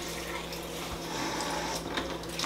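Water pours into a pot of cooking rice on a home stove as a short, steady trickle. It is fairly quiet and close, with no talking.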